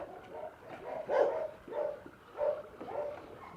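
A rescued dog barks and yips in several short, medium-loud bursts spaced about half a second to a second apart, with some whimpering tone in between and no talk.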